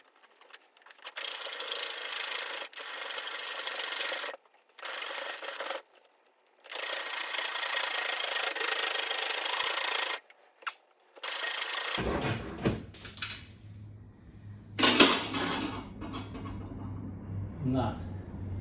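A standard hacksaw cuts through the threaded end of a bolt behind a nut while stripping a TVR Tuscan for restoration, giving bursts of steady rasping strokes broken by short pauses, followed by clunks and rattling handling noises near the end.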